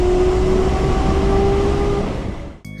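BMW inline-six engine revving high past 7,000 RPM, a loud, sustained howling scream that holds steady and then drops away near the end.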